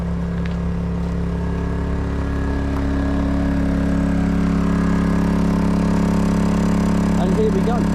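A portable generator runs outdoors beside a narrowboat, a steady loud engine drone with a constant mechanical hum and low rattle, close by and unbroken throughout.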